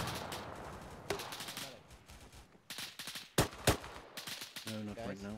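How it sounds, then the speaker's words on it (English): Weapons fire in the ArmA 3 military game, including an underslung grenade launcher: loud sharp shots and bursts at irregular intervals, some close and punchy, others more distant, with no talk. "somebody's firing a UGL behind us"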